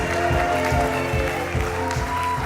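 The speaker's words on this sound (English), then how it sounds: "give your ushers a round of applause" A crowd applauds at a wedding reception with a steady wash of clapping, fairly distant, with some murmuring and background tones underneath.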